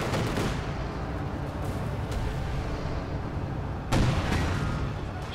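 Tank gun fire in the video game Company of Heroes 2, a continuous rumble of battle noise with a heavy boom near the end.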